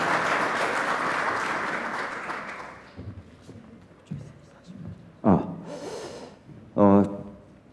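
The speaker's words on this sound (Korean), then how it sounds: "큰 박수로 환영해 주십시오." Audience applause welcoming a member of parliament at a policy forum fills the first few seconds as a dense wash, then fades out, leaving scattered noises and a voice speaking.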